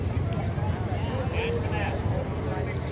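Budweiser Clydesdale horses of the road crew clopping along in Fort Collins, a busy blur of hoofbeats under steady crowd chatter and talk.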